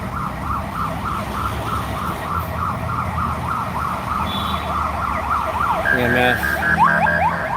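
An EMS ambulance siren wails in a steady, repeating up-and-down pattern, loud and close over road traffic noise, shifting pitch near the end as the vehicle passes.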